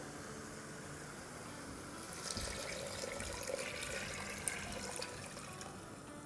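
Water is poured into a pot for soup, starting quietly then swelling into a soft, steady splashing stream that runs for several seconds, faint and close with no voices.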